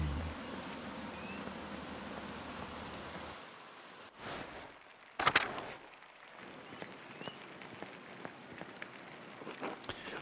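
Steady rain pours over a monastery in the game Pentiment, a dense continuous hiss for the first few seconds, then it cuts to quieter ambience with a few thumps and scattered small ticks.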